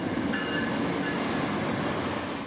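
A train rolls continuously through the small railroad town of Essex, Montana, with a loud steady rumble of wagons and a thin wheel squeal rising briefly.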